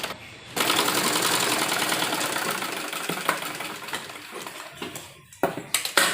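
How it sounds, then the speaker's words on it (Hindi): A sewing machine runs steadily while stitching the fitting seams of an embroidered blouse, with a continuous whirring drone that is near and loud, then breaks into short bursts and brief pauses toward the end. "ये हम इसी तरह फिटिंग पर सिलाई लगाएंगे।"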